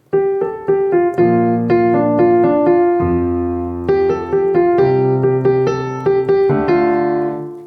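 Solo piano plays a gentle melody over chords from a song, each note struck at the same even loudness throughout, with no swells or softer passages.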